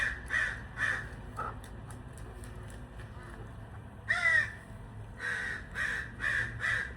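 Crows cawing outdoors in repeated bursts of harsh caws, some close and loud, one especially strong call in the middle, over a low steady background rumble.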